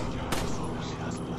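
A single gunshot cracks out in the Resident Evil 4 video game on PS4. It is one short, sharp blast among game noise, with someone talking over it.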